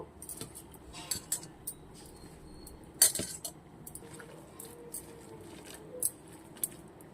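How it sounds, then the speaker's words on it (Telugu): Moong dal batter mixed by hand with chopped amaranth leaves, curry leaves and coriander in a bowl, giving soft intermittent clinks and scrapes against the vessel, with a few sharper taps scattered across the quiet. "తోటకూర వేసి ఇలా కలుపుకోవాలండి"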